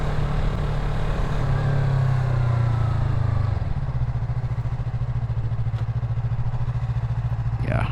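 A Yamaha MT03 motorcycle engine drones steadily while riding, loud and close with wind noise, the pitch holding then dropping as the bike eases off.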